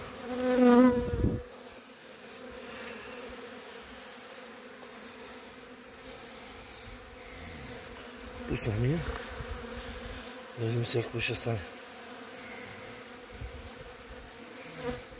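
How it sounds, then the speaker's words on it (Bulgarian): Honeybees from a small swarm with a young queen hum steadily as they are let into a hive, a continuous close drone with brief louder bursts. Someone speaks briefly near the start. "Пчелите влязоха, но майката не ще."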